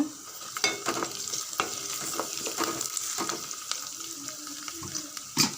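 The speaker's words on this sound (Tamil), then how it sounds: "நல்லா வெங்காயம் வதங்கிடுது" Onions and crushed garlic sautéing in a pan for sambar, a continuous close sizzle broken by repeated scraping stirs and clattering utensil knocks, with a sharp clink near the end.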